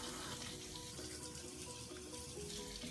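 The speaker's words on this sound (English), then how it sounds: "First step, we're going to give the crab a little rinse." A crab caught from a pier rinsed under a running kitchen tap, a steady close rush of water splashing into a sink, continuous and alone without talk.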